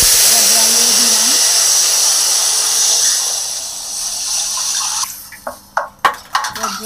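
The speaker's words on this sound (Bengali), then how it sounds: "এবার জল দিয়ে দিলাম" Water poured into a pan where moong dal is frying: a loud, continuous hissing rush that fades, followed by a few sharp clatters of a spatula stirring the pan.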